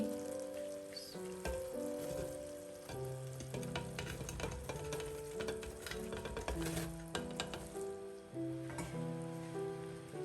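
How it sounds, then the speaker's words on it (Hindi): Steady sizzling and crackling of boiled rice frying in melted ghee, with stirring scrapes throughout and music playing in the background. "घी अच्छी तरह मेल्ट हो गया। अब इसमें उबले हुए चावल ऐड करेंगे।"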